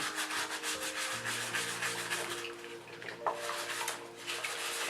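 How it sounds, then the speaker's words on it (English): A soft-bristled scrubbing brush is worked back and forth over vinyl in steady, close rubbing strokes that continue throughout over a low background hum. "This is quite a soft, bristled scrubbing brush. You don't want one with too harsh of bristles because it will just scratch the vinyl."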